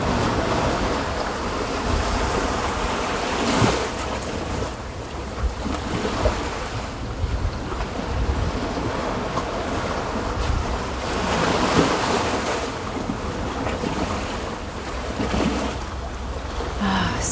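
Ocean waves wash steadily onto a shore, with a broad, continuous roar and some wind, surging periodically over about seventeen seconds, with no voices.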